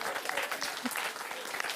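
A crowd breaks into a short burst of cheering and clapping during a bakery-set bodyswap musical, dense and lively throughout with a voice mixed in.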